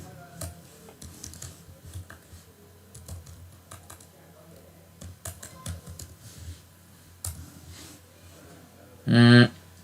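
Typing on a computer keyboard while writing JavaScript code: sparse, irregular keystroke taps, close and fairly quiet, ending in a short, louder burst of rapid clatter.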